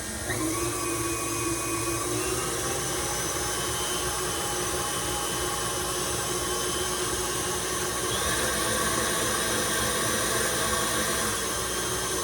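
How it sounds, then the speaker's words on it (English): Electric mixer whipping cream with powdered sugar into stiff peaks, a loud steady whirring hum with constant broadband whine throughout and no talking. "now we will mix this a little bit longer so there's a really nice peaks"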